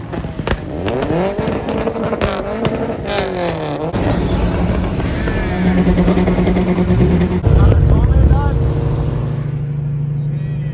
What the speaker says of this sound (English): Oh, look at this little Corolla. This shit two-step.